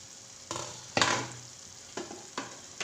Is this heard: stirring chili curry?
yes